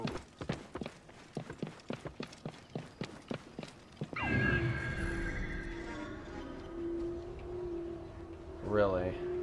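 Horse in Assassin's Creed Origins galloping with a rapid clip-clop of hooves, then letting out a long, loud neigh that trails off, followed by a shorter whinny near the end.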